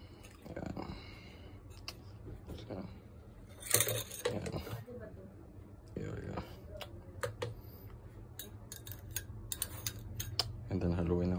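Yeast being stirred into milk in a pot for cheese fermentation: quiet scattered clinks and scrapes of a utensil against the pot, with talk running over them.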